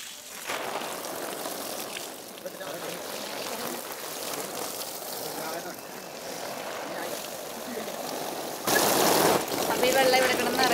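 Water from a motor-driven pump pours steadily into a small home pool, a continuous hissing gush up close that grows louder near the end.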